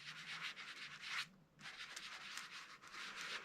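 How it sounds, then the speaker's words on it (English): A sanding block rubbed over a vintage LYLE street sign in repeated close, soft scratchy strokes with a short pause partway through, no voices. "we're going to take the sanding block here and we'll just rub over this"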